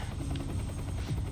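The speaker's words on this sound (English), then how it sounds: "The helicopter is searching for us." A helicopter in the video game Quantum Break drones overhead with a steady, muffled rotor buzz that holds at an even level throughout a brief stretch.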